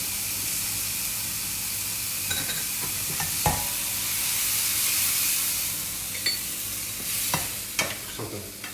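Squid sears fast in a hot pan for a risotto, making a loud, continuous hiss of frying with a few sharp clicks of stirring near the end. No voices.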